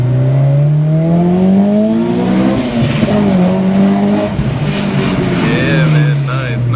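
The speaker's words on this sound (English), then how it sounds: "The VTEC sounds good too with the exhaust and the headers" A 2006 Acura RSX Type S with a VTEC engine, headers and aftermarket exhaust revs and accelerates up through the gears, its loud engine note rising and falling steadily close by.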